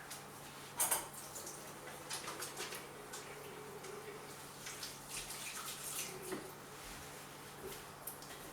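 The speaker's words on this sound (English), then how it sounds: "I'm just quickly going to wash my hands." Hands are washed under a running kitchen tap to rinse off raw egg, a faint steady water flow broken by soft splashes and rubbing close by.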